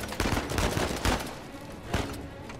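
Rapid bursts of video game gunfire from Uncharted 4, a dense run of overlapping shots with several sharper cracks standing out, loud and continuous with no talk.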